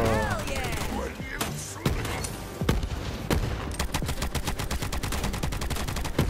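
Rapid weapon fire in Borderlands 3, with sharp single shots giving way to a fast automatic burst, loud and close amid game effects.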